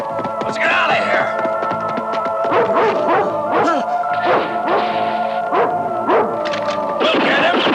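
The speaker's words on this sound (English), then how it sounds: "He's a mad dog!" A mad dog barks and howls loudly and close, in repeated rising yelps and drawn-out howls across the whole stretch, with a few fast bursts in between, from a 1983 wilderness film.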